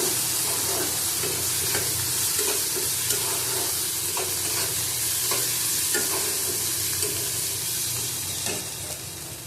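Okra and potato sautéed with turmeric and Kashmiri chili powder in a pan for a prawn curry, a steady close sizzle and frying hiss with soft stirring scrapes throughout, no voices.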